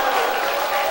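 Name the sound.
church audience applause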